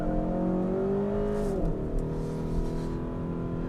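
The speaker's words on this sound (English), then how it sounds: "that was a pretty good one-wheel peel" 2021 Kia K5 GT accelerating hard with a one-wheel peel: a loud, close engine rev climbs in pitch, then drops at a gear change with a brief tire chirp, followed by steady engine drone, and no talking.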